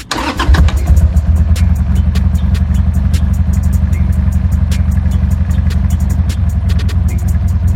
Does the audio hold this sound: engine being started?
yes